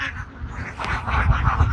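A flock of ducks grazing in an open field quacks in a dense, overlapping chorus, close and fairly loud, with no talking.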